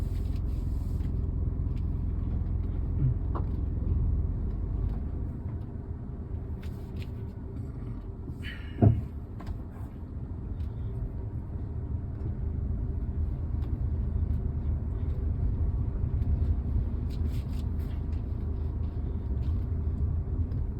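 A car rolls along a road in Pampady, Kottayam during a driving lesson, its steady low engine and tyre rumble continuing throughout, with a brief sharp knock near the middle.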